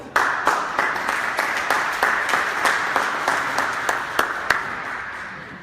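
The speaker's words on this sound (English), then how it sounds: "Give her a round of applause." Audience applause for a spoken-word poet being introduced at a community talk, steady and moderately loud, with sharp individual claps punctuating a continuous wash of clapping.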